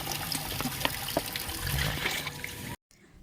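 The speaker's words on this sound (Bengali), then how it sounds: "এবার আমরা লেবু পাতা আর লঙ্কাগুলো ধুয়ে নিচ্ছি" Water splashes and trickles as jujube fruit, lemon leaves and chillies are rinsed by hand, a continuous close sloshing that stops abruptly at the end.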